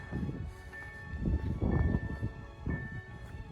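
A train, likely the Intercity Batory in Poland, rumbles past at moderate distance, a low steady roar with a faint high whine and some rustling wind, with no voices.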